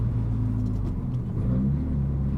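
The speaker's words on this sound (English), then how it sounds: "That was the, like, choking that the car does." Renault Megane RS RB8 engine choking and stumbling at full throttle during a canyon drive, a steady loud low droning rumble with brief wavering dips, no talk.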